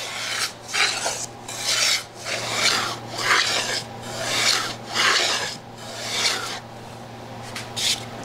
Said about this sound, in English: Now I'm gonna cut down to about a little less than an eighth of an inch.